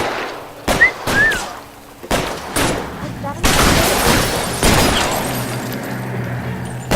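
Revolver shots ring out in a 1940s Los Angeles crime game, several sharp cracks spaced irregularly among crashes and shattering, with voices talking in between.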